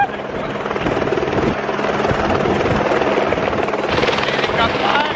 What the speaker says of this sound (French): L'hélicoptère est là.